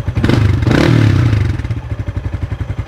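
A Yamaha Sniper 155 motorcycle engine starts and idles close by, first with a brief rev, then a rapid, even putter.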